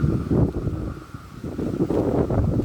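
Strong gusts buffet a pitched tent at a windy hilltop campsite, a loud low rumbling roar that surges and dips unevenly with no talking.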